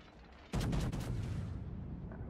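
Battleship guns fire in a naval battle game, a Scharnhorst shooting at the Nuremberg: one sudden loud broadband boom with a crackling blast tail that stays heavy and rumbling to the end, over low game ambience.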